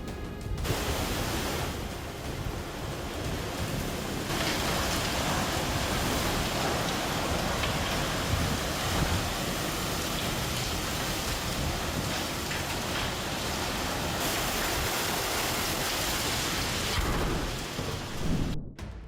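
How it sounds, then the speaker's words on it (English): A storm roars steadily with dense pounding rain and rushing wind, a loud continuous wash of noise from start to finish. "Howling winds and pounding rain turn a peaceful scene into an action movie in moments."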